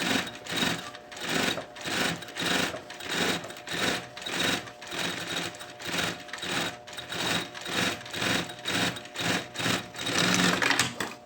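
A sewing machine stitches through a backpack panel stiffened with EVA foam, running in a steady pulsing rhythm, close and fairly quiet, with slight speed changes and no talking.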